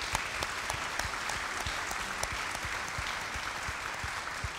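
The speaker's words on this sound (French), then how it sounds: "Je crois qu'on peut vous applaudir" Conference audience applause for a panel on managerial courage, dense and continuous clapping heard from within the room, steady in level throughout.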